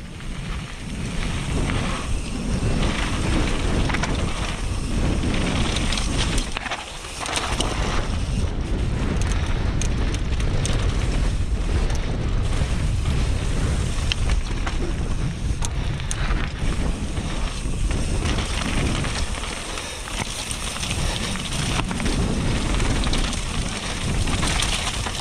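Strong wind roaring and buffeting the microphone outdoors at a mass-start mountain bike race, a loud continuous rush with a brief dip partway through.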